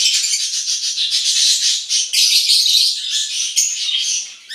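A young lovebird chick chirps continuously up close, loud shrill repeated calls running together in a rapid, insistent stream with brief dips.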